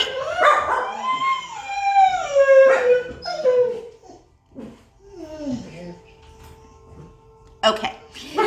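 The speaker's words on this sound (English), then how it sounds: "I don't know why they're barking" Dogs bark, yip and howl in a mix of rising and falling whines and sharp barks, close by, with a person speaking over them.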